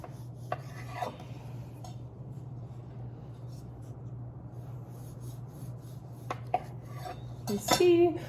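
Rolled dough pieces sitting in a pan are sawn through with a knife, making faint rasping strokes over a steady low hum, with a few sharper clinks and a louder scrape near the end.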